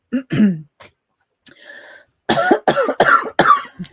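A few harsh coughs and throat-clearing bursts, close and fairly loud, spaced out with short pauses and followed by a rapid cluster of coughs.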